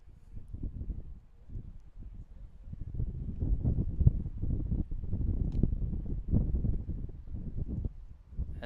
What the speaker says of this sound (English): As the wind gusts through